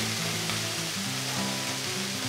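Beef roulades searing in a pan give off a steady, close sizzle with a broad hiss and faint bubbling, continuous and even throughout without speech.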